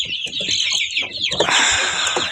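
A Kuchin breed hen clucks repeatedly at close range, with short rhythmic calls that grow louder and busier toward the end.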